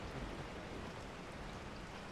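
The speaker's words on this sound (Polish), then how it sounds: "I się rozpadało jeszcze." Steady rain falling in the Resident Evil 4 video game, a faint, even wash of drops and patter with no breaks and no talking.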